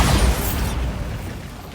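A Bombarda explosion spell in Hogwarts Legacy, a single loud booming blast at the start that rumbles and fades away over about a second and a half.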